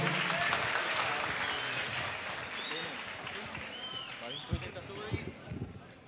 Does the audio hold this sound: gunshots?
no